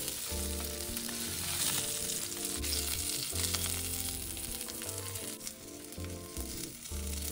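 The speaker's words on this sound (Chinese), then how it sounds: "接着再将鱼4面煎熟，" Fish pan-frying in hot oil, turned to cook on all four sides: a loud, dense, continuous sizzle with occasional stirring or scraping under soft background music.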